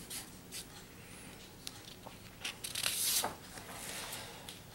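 Quiet handwriting on a surface, short scratchy pen strokes and taps at close range, faint and intermittent with a brief louder scrape near the middle.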